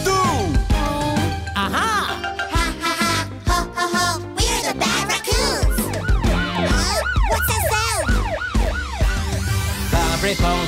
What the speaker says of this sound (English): police car, ringing my siren